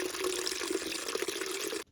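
Water pours steadily from a bulk water station into a 2-liter pitcher in an off-grid Alaska cabin kitchen, a close, continuous splashing fill that stops abruptly.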